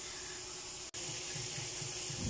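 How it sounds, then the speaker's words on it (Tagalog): Tap water gushes steadily into a pot of chicken feet adobo, a continuous close hiss and splash with one brief break near the start, with no talking. "lagyan na natin siya ng tubig para mapakuluan natin para lumambot"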